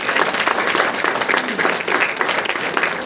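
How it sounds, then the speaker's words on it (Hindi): Audience at an RCM business lecture event breaking into applause, a dense, steady burst of clapping from a large crowd, loud and sustained throughout. "एक बार जितने भी सीनियर साथी गए उनके लिए जोरदार तालियां।"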